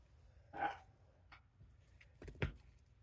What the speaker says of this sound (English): Did you guys just hear my dog?